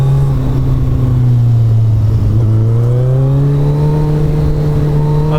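A Kawasaki ZZR1400 motorcycle accelerates on the road, its loud, near engine tone climbing steadily and continuously in pitch.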